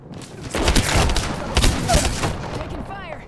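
Gunfire in the video game Apex Legends: a loud, dense volley of overlapping shots and booms lasting a couple of seconds, then tapering off with a faint warbling tone at the end.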